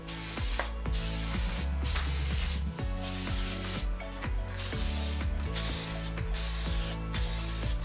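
An aerosol can sprays clear adhesion primer onto a Zephyr 750-series motorcycle engine part. Repeated hissing bursts come close up, with the mixing ball rattling and clicking as the can is shaken between passes, and no talk.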